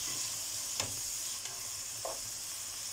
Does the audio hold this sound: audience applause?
no